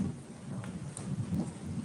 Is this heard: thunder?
yes